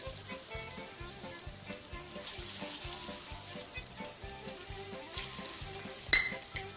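Latkes frying in hot oil, a steady soft sizzle with faint music underneath and a brief clatter near the end.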